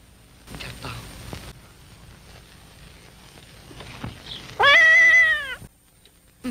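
A house cat in a 1951 Hindi film lets out one loud, drawn-out meow near the end, rising out of a quiet, hissy soundtrack.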